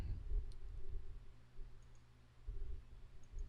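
Quiet computer mouse clicks sound as single faint taps over a steady low room hum, with no voices.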